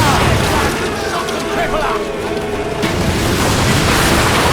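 Booming ship cannon fire in the video game Assassin's Creed Black Flag, a loud, rumbling barrage layered with crashing battle noise and shouted voices throughout.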